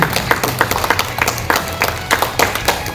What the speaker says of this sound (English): we have to give a round of applause for this